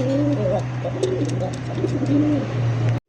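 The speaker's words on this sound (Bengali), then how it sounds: "ককা কবুতরের মতো দম ধরে ধরে কত সুন্দর ঘুরে ঘুরে ডাকের কবুতর" A breeding pigeon of a fancy Bombay, satin or racer type coos close by in long, held, rolling calls while circling. A steady low hum and light chirps sit underneath.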